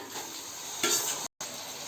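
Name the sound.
chopped tomatoes sautéing in a pan for chicken biryani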